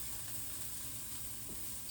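Onions fry in a hot cast iron pan for a German frikadellen burger mix, giving a steady, even sizzle throughout with no voices.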